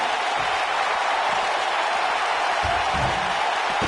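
A packed wrestling arena crowd in the WWE 2K19 video game roars and applauds steadily, a dense continuous wash of cheering with no break.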